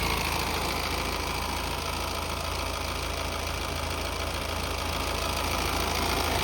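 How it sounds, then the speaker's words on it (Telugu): A 2015 Honda Amaze 1.5-litre diesel engine idles steadily and smoothly at close range, a continuous low mechanical hum with no pauses or voices. "ఇంజన్ మంచి సైలెంట్ ఉంది సార్ స్మూత్ ఉంది"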